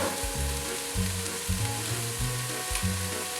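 Garlic frying in melted coconut oil in a pan gives a steady, close sizzle throughout, with low clunks of stirring at intervals and no voices.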